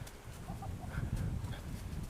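Backyard hens cluck softly in a steady low murmur, a few faint higher calls drifting over the top, close by and continuous with no voices.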